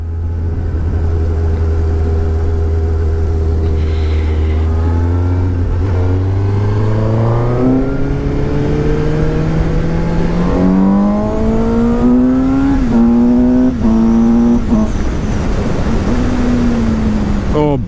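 A 2017 Suzuki GSX-S750 motorcycle engine on a test ride climbs in pitch through several clear upshifts, each rev rise dropping back before building again, loud and close throughout.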